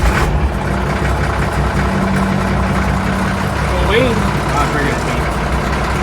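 A Caterpillar 980B loader's diesel engine runs steadily at idle, a dense, continuous low rumble up close. Someone speaks briefly over it.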